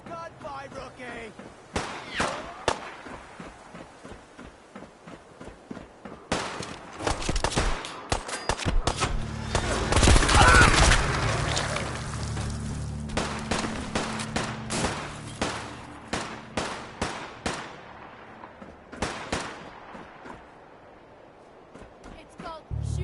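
Sniper gunfire in Fallout 4 cracks out as a long run of sharp, repeated shots, some close and loud, others quicker and lighter, with a sustained noisy swell in the middle and people talking throughout.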